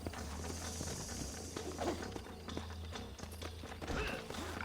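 A horse's hooves clip-clop unevenly at moderate distance in Red Dead Redemption on Xbox One, set against a steady low ambient hum with occasional louder shuffles.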